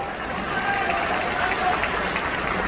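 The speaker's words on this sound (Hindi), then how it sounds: "जरा ताली वाली बजा के बताओ" Crowd applause at an outdoor public rally addressed by a chief minister in Mhow, a dense, steady wash of clapping from a large audience held at even loudness throughout.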